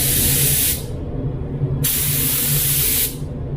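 A GTI Pro spray gun fitted with a T110 air cap lays a wet clear coat in a paint booth, giving loud, close hissing bursts that cut off sharply between passes over a steady low booth rumble.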